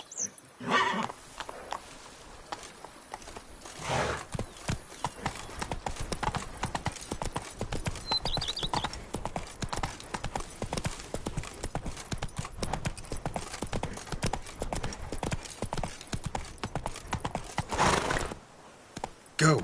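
In The Witcher 3, a horse gallops with a rapid, steady clatter of hooves that runs loud and close for nearly the whole stretch, with a whinny near the start.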